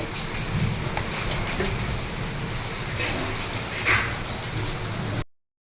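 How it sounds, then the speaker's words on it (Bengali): Heavy rain pours steadily with low rumbling thunder beneath it, a dense continuous wash throughout that cuts off abruptly at the end. "প্রচণ্ড মেঘ ডাকছে কিন্তু প্রচণ্ড রকমের মেঘ ডাকছে"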